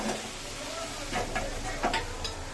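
Cabbage curry with fish head sizzles in a pan as more is poured in, soft frying crackle with a few stirring clinks, fairly quiet, and a voice speaks briefly over it.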